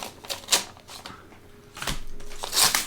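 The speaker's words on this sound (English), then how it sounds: "Let's take the scissors to it." Scissors cutting open a cardboard mail package, with irregular crisp snips and crinkling of cardboard and tape, close and moderately loud, louder toward the end.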